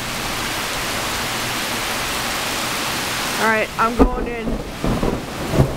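A predawn August thunderstorm in Massachusetts pours down as a dense, steady roar of rain and low rumble, loud and unbroken, before someone speaks briefly over the continuing downpour.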